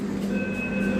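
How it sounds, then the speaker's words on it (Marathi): Interior of a Pune Metro train carriage: a steady low rumble and hum of the moving train with a faint high whine, continuous and close throughout. "ही आहे आपली मेट्रो"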